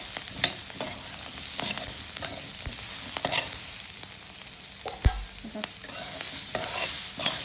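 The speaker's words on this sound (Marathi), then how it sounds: "आपण अर्धा ते 1 मिनिट चांगलं परतायचं" Capsicum stir-fries in oil with a continuous crackling sizzle and repeated clicks and scrapes of a spatula against the pan, close and steady throughout.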